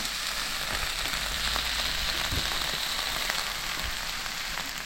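Steady hissing sizzle of a jowar ghavane, a thin sorghum crepe, frying on a hot pan as it is turned, with faint soft scrapes and taps over the continuous crackle.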